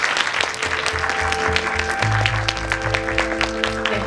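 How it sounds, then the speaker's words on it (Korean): At a Netflix movie talk event for the film My Name Is Loh Kiwan, the audience claps in sharp, busy bursts while loud music with a thumping bass beat plays throughout. "여러분 큰 박수 부탁드립니다"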